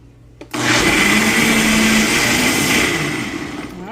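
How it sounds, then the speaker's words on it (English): A countertop blender blitzing a tomato mixture for a quick zap, starting abruptly and running as a loud, steady whir that eases slightly toward the end. "I'm going to put it on the blender, a quick zap"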